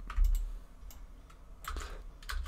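Keystrokes on a computer keyboard while entering an address into a Firefox browser bar, a few scattered clicks and short bursts at a close, quiet level with no talking.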